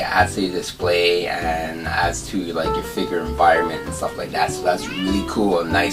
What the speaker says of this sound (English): You probably hear meow in the back.